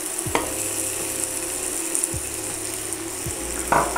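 Onion frying in a pan on a home stove, a steady close sizzle broken by a few clicking and scraping knocks of a utensil, with no talk.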